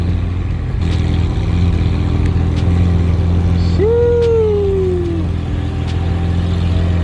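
A Dodge Hellcat's supercharged engine idles at an outdoor car show, then blips in one short, loud rev that falls away, with a steady engine drone throughout.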